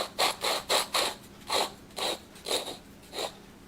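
A wooden threaded insert for a hollow form is turned by hand, giving a run of about eight short, close scraping squeaks in an uneven rhythm as the threads grind together.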